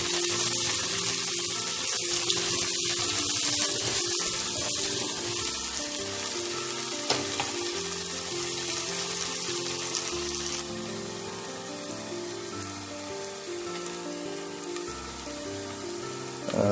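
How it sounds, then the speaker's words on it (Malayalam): Onions drop into hot oil in a Kerala-style kitchen, setting off a loud, steady sizzle like heavy rain that keeps going without a break. "എണ്ണ മൂത്ത് നമ്മളതിലേക്ക് ഉള്ളി ഇട്ട് കൊടുക്കുക."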